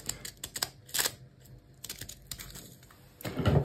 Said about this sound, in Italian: li taglio con la forbici, con le forbici a zig zag.